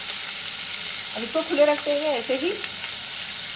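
Chicken liver fries in a pan over low heat, giving a steady, close sizzle with bubbling crackle throughout, while a voice briefly speaks over it midway.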